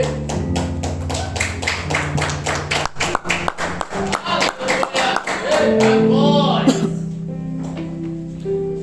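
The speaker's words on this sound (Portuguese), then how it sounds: "as palmas bem alegres para Jesus" A church congregation claps rhythmically and joyfully for Jesus in time with music, a sharp, regular beat of many hands over singing and instruments that breaks off near the end as the music carries on.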